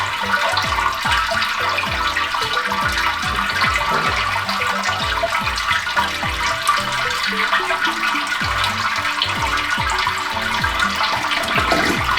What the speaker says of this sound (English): So that's now all 15 litres of sparge water gone over the grains.